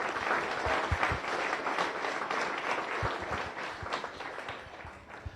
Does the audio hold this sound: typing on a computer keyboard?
no